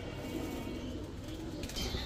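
A grizzle racer pigeon coos softly at close range, a faint low murmuring among quiet background noise.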